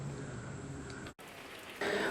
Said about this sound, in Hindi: बारिश से ये हाल केवल एक क्षेत्र का नहीं है, बल्कि पूरा प्रदेश इस बारिश की मार को झेल रहा है।